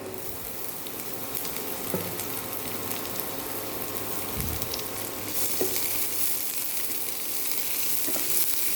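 Onion sizzling as it is added to scrambled egg frying in a pan for egg pasta, a steady close hiss with occasional soft stirring scrapes and no voices.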